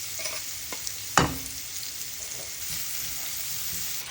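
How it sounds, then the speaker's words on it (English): Steady sizzling of onions frying in olive oil in a pan, a constant hiss with a brief sharp clink near the start. "now the onions are frying off quite nicely"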